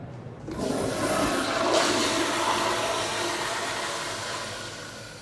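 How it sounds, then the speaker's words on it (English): A toilet flushes in a restroom at the American Sign Museum: a close, loud rush of water that surges after half a second and slowly tapers into a steady refilling roar, with no talking. "That's a good flush."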